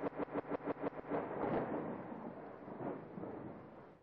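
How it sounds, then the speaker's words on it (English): Thunder sound effect from the Amiga game Plan 9 From Outer Space, skipping and stuttering like a dusty CD: rapid repeated bursts for about a second, then a rolling rumble that fades out, with no talk. "Didn't think that lightning, well, thunder sound effect could actually skip like a CD when it had dust on it"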